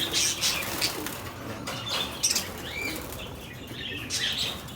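Parakeet or lovebird chicks flap their wings in short fluttering bursts while being moved to another cage, close and soft, with faint chirps and cooing mixed in and no speech.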